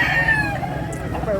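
A white choco rooster about eleven months old crows once in a long, wavering call, loud and close, with faint background murmur beneath it.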